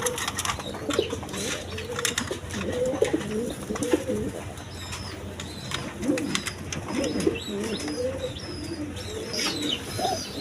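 American Lakha pigeons coo in repeated low, throaty phrases close by, with scattered chirps, some wing flutters and a steady background hum.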